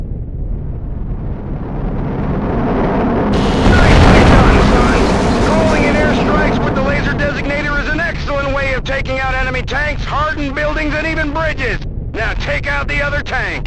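Airstrike explosions in the video game Conflict: Desert Storm 2, a loud rumbling blast swelling around the fourth second, then sustained roaring debris and wind-like noise with a radio-style voice talking over it.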